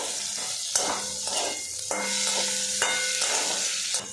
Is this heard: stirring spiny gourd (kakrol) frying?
yes